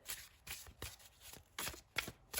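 Thick cardstock tarot cards being shuffled up close, a series of crisp papery riffles and taps in an uneven rhythm, quiet and with no voices.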